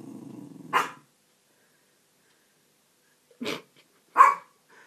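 A dog barking at a lamp indoors: one sharp bark, a long silence, then two more short barks close together, fairly close and loud with nothing else around.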